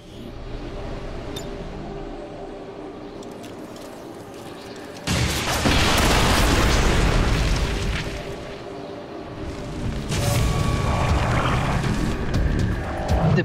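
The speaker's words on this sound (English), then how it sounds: "The purifier detonated" A purifier detonates in XCOM 2, a sudden loud roaring blast that swells and rumbles for a few seconds, then a second surge of crackling noise follows over steady game ambience.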